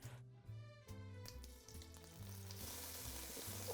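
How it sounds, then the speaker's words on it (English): Anchovy fillets dropped into hot oil for a fish stew, a close steady frying sizzle that swells and grows louder and hissier as the fish settles into the pan, with no voice over it. "Into the hot oil, you now need to add 4 anchovy fillets."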